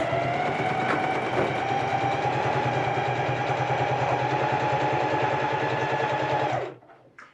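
A sewing machine stitches an elastic waistband casing in a steady, rapid whirring hum with a fast mechanical pulse, close and even for several seconds before stopping abruptly.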